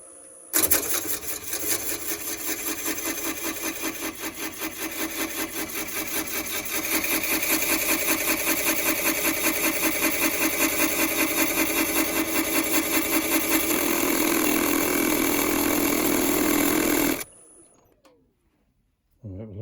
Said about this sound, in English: I've just got to ream the side out a bit with the knife here